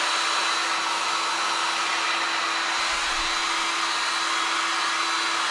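A hot air gun switched on with its heat turned up blows a steady, loud broadband rush of air, with a constant low electrical hum running through it and no voices.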